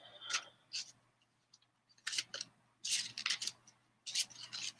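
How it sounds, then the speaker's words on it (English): A deck of cards is shuffled in quiet bursts of riffling and rubbing, a handful of short papery flurries separated by brief pauses, close and faint. "I'm going to shuffle this deck a little bit."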